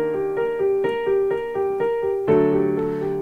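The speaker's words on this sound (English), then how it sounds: "It sounds kind of weird when you don't put the sustain pedal in." Repeated piano notes and chords played without the sustain pedal, each strike clipped short with gaps between, a steady rhythmic pulse that thickens into a fuller, louder chord near the end.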